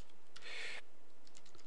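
Typing on a computer keyboard, heard as a short quiet burst of key clicks followed by a few scattered faint taps, with no talk.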